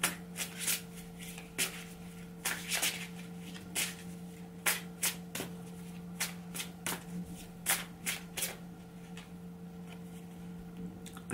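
A deck of oracle cards is shuffled by hand in quiet, close, irregular bursts of riffling and slapping, each lasting a fraction of a second, over a faint steady hum.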